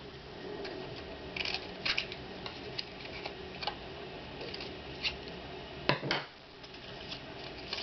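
Scissors trimming paper for a handmade scrapbook paper rose, small irregular snips and rustles of paper close by, quiet, with no talking.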